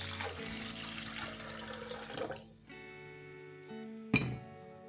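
Filtered water pours and splashes into a blender for a couple of seconds, then a quieter trickle and a sharp clink.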